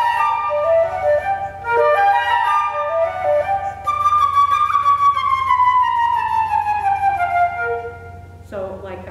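Solo flute playing a melodic passage with marked loud and soft dynamics and a swelling crescendo, clear sustained tones moving through several pitches, close and unaccompanied.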